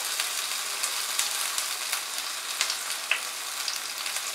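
Dates, chironji seeds and raisins, with almonds and pistachios, fry over medium heat in a pan for sheer khurma, giving a steady low sizzle with a few faint stirring clicks and no talk.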